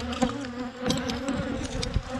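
Honey bees swarm around a GoPro camera at a beehive, their close, steady buzzing droning continuously with louder passes as individual bees fly right by the lens.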